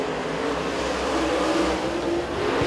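A super late model race car on a qualifying lap at a speedway, its engine a steady loud roar throughout with a slight swell at the end, no speech.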